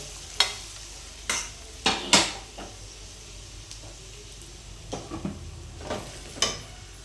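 Chicken fry cooks in a pan on a low flame with coriander added, a quiet sizzle broken by roughly eight sharp spatula scrapes and stirs coming in uneven bursts.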